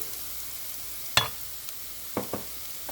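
Turmeric, garam masala, pepper powder and chili flakes fry with sautéed onions in a pan while making potato roti, giving a steady, soft sizzle broken by a few sharp spatula clicks and scrapes, with no talking.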